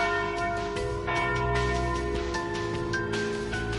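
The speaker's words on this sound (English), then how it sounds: "Ah, and there's the noon bell." The noon bell rings in the video game Trails through Daybreak, a sustained, resonant church-style bell tolling with layered ringing overtones, steady and alone with no talk.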